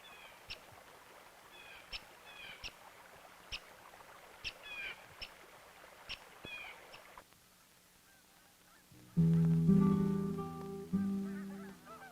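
Geese honking in a scattered series of short calls, then a louder, sustained honking burst near the end.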